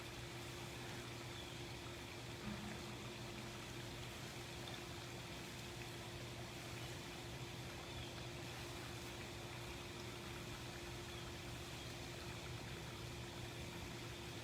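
Water flows steadily at a tiger enclosure at a big cat rescue, a constant, even rush with a faint mechanical hum underneath, unbroken for the whole stretch and heard alone.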